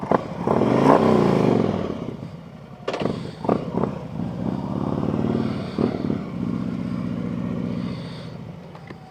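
A Harley-Davidson Street Glide motorcycle rumbles loudly while riding, its engine note swelling and easing through throttle changes, with clattery wind and road noise close by and no talking.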